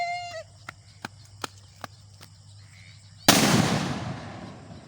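Homemade DIY firecracker bursting in one sudden loud bang with a rushing, fading tail, after a quiet stretch of faint sparse clicks and taps outdoors.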